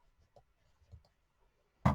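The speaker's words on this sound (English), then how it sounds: "And I'm cutting the rope at an angle, hoping that that will help tuck the end in." Scissors cutting through rope while making a rustic rope Christmas ornament: a few faint handling taps, then one sharp, close, loud snip at the very end.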